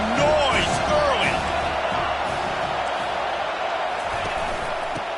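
Steady crowd roar filling a football stadium early in the game, a broad continuous wash of noise with scattered shouts and whistles, while a commentator talks over it.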